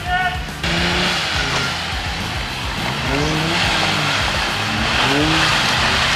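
A car is driven off-road on rough terrain, its engine roaring steadily and revving with rising and falling pitch, loud and close throughout, with brief talk near the start.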